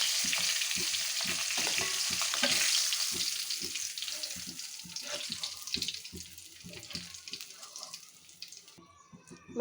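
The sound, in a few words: fish heads frying in oil, being flipped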